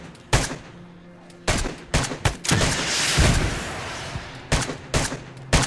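DayZ gunfire during an airdrop fight: scattered sharp shots in irregular bursts with a sustained roaring stretch in the middle, loud and fairly close, with quiet gaps between volleys.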